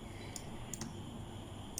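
Computer mouse clicks while working in Revit modelling software, a few sharp, faint taps spaced apart, including a quick double click, over quiet room hiss.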